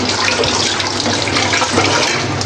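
Running water splashes steadily over a stone grinding slab being rinsed, a loud, continuous close-up gush with no break.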